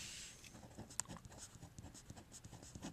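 A pen or pencil writing out a math equation by hand on paper, a faint, close scratching of strokes in quick irregular bursts with a sharp tap partway, no speech.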